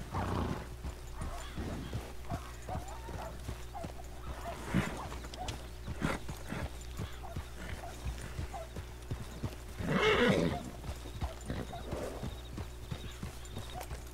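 Horses in the video game Red Dead Redemption 2 give steady clip-clopping hoofbeats throughout, with a snorting whinny partway through, all heard close over faint background ambience.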